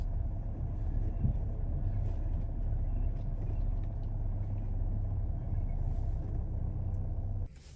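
Low, steady rumble of a car engine idling close by while the vehicle is parked at a homestay in the Himachal hills, continuous for several seconds before cutting off abruptly near the end.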